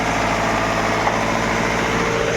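An engine drones steadily and close as an Iveco is loaded onto a transport truck, a continuous even hum with faint vibration and no clear surges.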